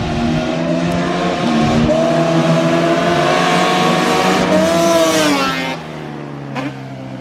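A GTR car and a Banshee race, engines roaring loud and close with rising and falling revs through gear changes, the sound sustained before dropping off near the end.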